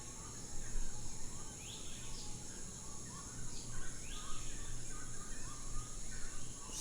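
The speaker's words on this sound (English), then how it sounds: "Sounds of the jungle," Jungle birds and insects fill a soft, steady ambience, with scattered chirps and short calls over a continuous high insect buzz, all faint and distant.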